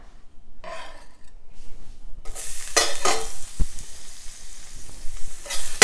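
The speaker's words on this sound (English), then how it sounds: "And then I'm just going to add my garlic in." Garlic hits hot oil in a pan with a sudden loud sizzle after quiet handling noises, the frying hiss swelling and pulsing with stirring scrapes and a sharp clink of a utensil against the pan.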